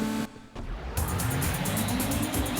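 Racing car engines drone in the 1998 PS1 Gran Turismo, dipping briefly before a loud, buzzy engine roar returns and holds with a faint rhythmic pulsing.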